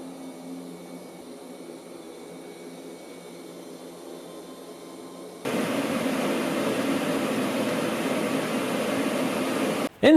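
A Roborock Q Revo robot vacuum hums quietly, then abruptly jumps to a louder, rushing whir at a higher power setting, steady until a clunk at the end.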